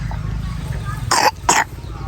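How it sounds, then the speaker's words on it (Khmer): Two short, harsh coughs close to the listener in quick succession, set against low background rumble and faint ambient noise. "មើលក្អកឥ"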